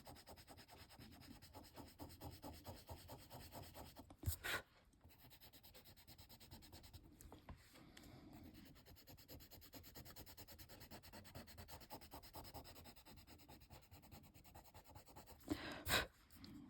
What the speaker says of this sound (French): je vais repasser le blender ici pour mélanger